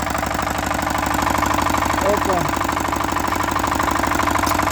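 An old Chinese HT 135E mini tractor engine chugs at a steady idle, a close, loud, even rhythmic putter that holds without pause from start to finish.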